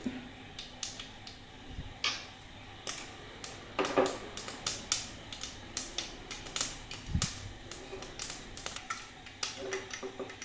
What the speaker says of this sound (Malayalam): ഒരു 1/4 ടീസ്പൂൺ കടുകിട്ട് പൊട്ടിക്കുക